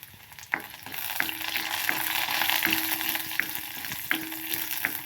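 Ginger-garlic paste for a quail egg curry frying in hot oil, a steady close sizzle with a few sharp spoon clinks against the pan at a slow, irregular rhythm, no voices.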